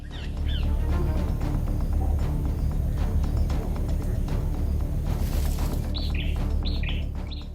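High, thin chirps come in short bursts over a steady low rumble, repeating several times and growing busier toward the end.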